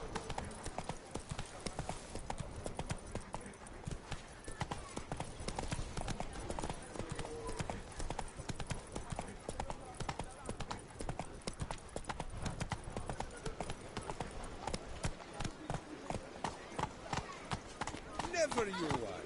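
Roach, the horse in Witcher 3: Wild Hunt (Blood and Wine), gallops with a continuous rapid clatter of hooves, loud and near, with voices talking over the hoofbeats.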